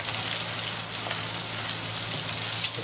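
Tofu frying in hot oil, a close, even sizzle with a bright hiss and a few soft pops, steady from start to finish.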